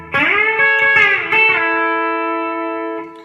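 An electric guitar with a B-bender plays a short lick: a few quickly picked notes, then a sustained note bent upward that rings out and fades, heard clearly and alone.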